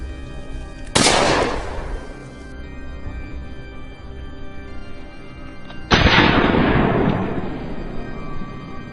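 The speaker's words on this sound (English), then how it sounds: "A barrage of gunfire rang out, each shot tracking the beast's every stride" Two loud, sharp gunshot blasts about five seconds apart ring out in the open during a wild boar hunt, each trailing a long reverberating decay, with no talk.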